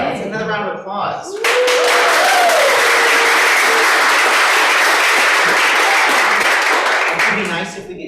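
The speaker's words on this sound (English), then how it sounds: "Let's have another round of applause." An audience at a reading series bursts into a loud, dense round of applause after a brief spoken moment, the clapping swelling quickly and holding steady before tapering off near the end.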